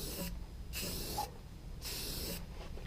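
Spray gun laying a medium coat of paint on a motorcycle frame, three steady hissing bursts of about half a second each separated by short pauses, close and fairly quiet.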